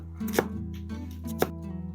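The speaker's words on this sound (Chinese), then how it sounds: "接下来再切一点洋葱丁" A knife dices onion on a cutting board, two distinct sharp chops about a second apart over a steady low background hum, close and fairly quiet, no talking.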